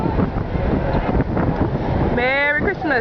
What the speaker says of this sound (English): Blustery wind.